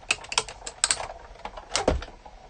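An Eclipse electronic die-cutting machine cuts through patterned paper and sticky backing, giving a quick run of close, clicking taps and a brief louder thump in an otherwise quiet room.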